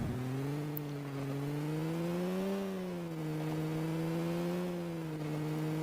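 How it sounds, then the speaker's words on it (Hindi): Vehicle engine revving in the video game PUBG Mobile, a steady droning hum that rises and falls slightly in pitch, continuous and fairly quiet throughout. "अब देखिए हम गाड़ी लेके रश करते हैं।"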